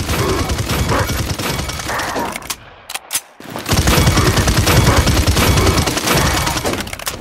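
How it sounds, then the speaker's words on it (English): Loud rapid blasts burst out in dense volleys from the Barrage ability in the Paladins shooter game, broken by a short lull with a few sharp shots before the heavy barrage resumes at full intensity. "When Barrage is active, aim in the direction of an enemy and fire to trigger a blast."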